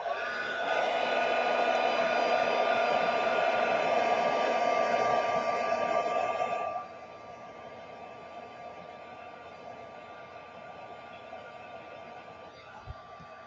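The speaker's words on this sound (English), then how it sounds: "Got a puddle. I don't want a puddle. Let's blow dry it." A hair dryer blows steadily on a paper-craft puddle for about seven seconds, a loud even whoosh that then cuts to a much quieter setting or fades to a low background hiss.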